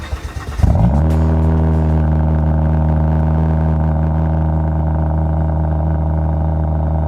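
A Volvo XC70 T6 engine fires up after a short clatter, then settles into a steady, close, low droning hum.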